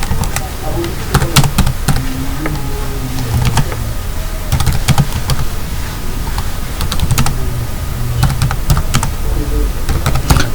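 Keystrokes rattle steadily on a computer keyboard as text is typed into a text box, close and fairly loud, in quick irregular bursts over a low background hum.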